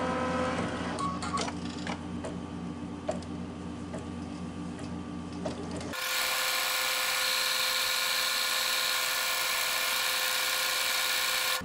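An embroidery machine stitches a design with a rapid mechanical ticking whir. The sound shifts halfway into a brighter, denser steady drone, close and continuous, with no voices.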